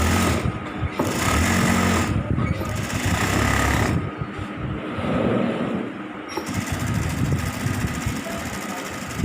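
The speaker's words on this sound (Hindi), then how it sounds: "ये हमेशा सीधा साइड से आप सिलाई कीजिएगा क्योंकि ये टॉप स्टिच है" A sewing machine top-stitching a shirt stand collar runs loud and close, a steady mechanical whir with brief slowdowns at a few points.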